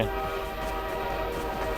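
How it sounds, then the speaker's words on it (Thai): A train approaches in the video game Half-Life 2, a loud, sustained, droning horn with rumbling rail noise that holds steady and close for the whole stretch. "รถไฟมา"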